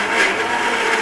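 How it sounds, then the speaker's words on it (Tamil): A mixer grinder whirs steadily, grinding sautéed chopped ingredients into a smooth paste for a Sunday fish curry; a loud, continuous motor drone holds close and unbroken throughout with no talk. "நம்ம வெட்டி வச்சது வதக்கி வச்சது எல்லாத்தையுமே அரைக்க போகிறேன்"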